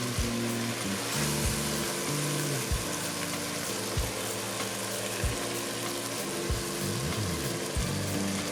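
Wine hits a hot pan of Cajun blue crab gumbo base and sizzles steadily, a broad loud hiss with scraping stirs and faint bubbling running throughout.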